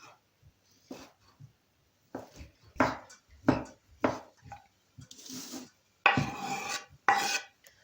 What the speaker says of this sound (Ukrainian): Нарізаю їх навпіл, перерізаю.